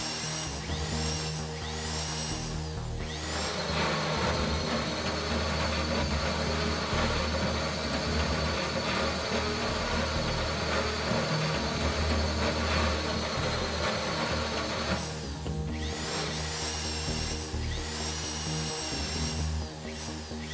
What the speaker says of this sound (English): Don't overheat the drill.